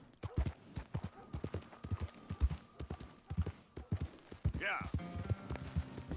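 Horse hooves pound in a quick, steady gallop in Red Dead Redemption 2 on PS4, a close, rhythmic run of beats with a brief higher whinny-like cry partway through.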